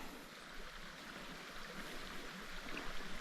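Steady rushing of a mountain stream flowing near the Old Sawmill campsite on the Pine Mountain Trail, a continuous even wash of water with no voices.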